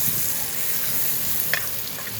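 Garlic and onions sizzle in a frying pan with a dense, steady hiss, and a couple of brief clinks from stirring come through near the end, with no talking.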